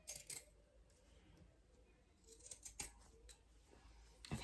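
An old pair of pinking shears with a broken tip cuts fabric for a sewing pattern, producing quiet, close snips with the occasional sharper crunch of the blades.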